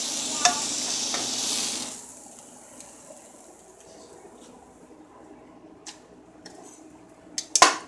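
Scrambled eggs cooking on low heat in a pan, stirred with a utensil: a soft sizzle fades into quiet scraping and light clinks, close and faint, ending with a few sharper taps.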